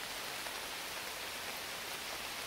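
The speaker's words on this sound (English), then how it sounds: "it started pouring" Heavy summer rain pours in a forest as a dense, steady hiss of countless drops with no breaks. It sounds fairly soft and even throughout, and no voices are present.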